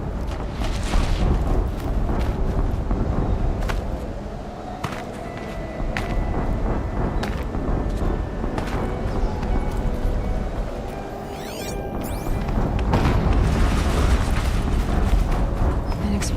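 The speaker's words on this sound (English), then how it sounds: "An explosion." Explosions in the video game Horizon Zero Dawn, deep rumbling blasts and bursts amid busy mechanical battle noise, with a voice talking over the action.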